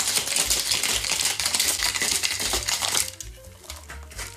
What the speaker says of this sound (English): Gonna pour Boston together, tap to seal it, and shake for about 10 seconds.